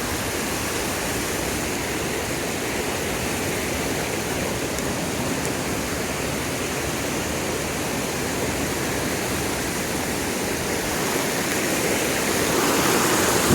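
Creek water rushes steadily beside a hiking trail near Thurmond, West Virginia, a continuous broadband wash with no talking, swelling slightly louder toward the end.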